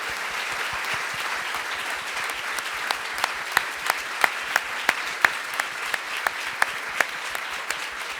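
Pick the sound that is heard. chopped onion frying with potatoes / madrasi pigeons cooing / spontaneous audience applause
spontaneous audience applause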